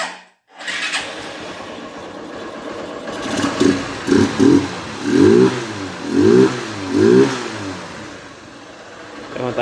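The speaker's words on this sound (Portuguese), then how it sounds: "eu vou funcionar a moto aqui" A motorcycle converted from fuel injection to a carburetor starts up and idles, then revs in several short bursts, close by and loud, settling back between each throttle blip.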